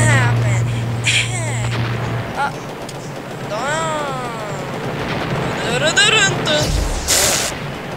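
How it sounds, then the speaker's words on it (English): Airstrike explosions in a Roblox video game: heavy booms and rumbling blasts with a busy, noisy battle backdrop, while a voice talks excitedly over it. "This one's about to get airstrike."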